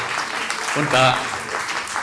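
Audience at an Arya Samaj convention session claps in a dense, even wash of hands, with a short voice rising briefly in the middle.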